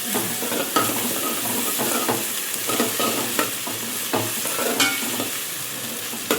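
Minced meat keema fries with ginger garlic paste in a pan, a steady sizzle broken by repeated scraping stirs and occasional clinks of a utensil against the pan, close and continuous with no voices.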